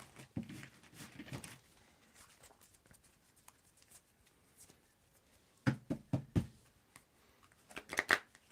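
A tarot deck being shuffled by hand gives soft papery riffles and taps in a few short bursts, close and quiet, with pauses between them.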